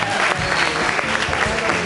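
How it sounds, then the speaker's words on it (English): An audience at a comedy show bursts into brief, dense applause, with continuous clapping filling the room and voices mixed in under it. "Give a round of applause."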